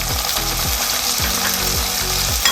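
Garlic ginger paste fries in hot oil with onions, giving a loud, continuous sizzle with rhythmic scraping strokes of stirring through the pan.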